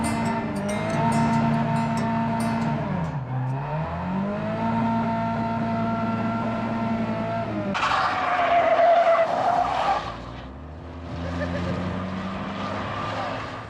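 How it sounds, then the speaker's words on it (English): A car doing a burnout at a car meet, tires screeching in a loud sustained squeal that bends and wavers, then a rougher roaring burst of engine and tire noise, close and outdoors. "Burnout."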